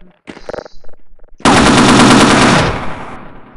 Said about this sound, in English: There's a turret!